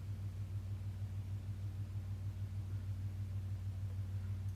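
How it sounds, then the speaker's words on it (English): A car engine rumbles steadily at low pitch with a regular pulsing throb, close and continuous throughout, with no voices. "Oh, a car starting up."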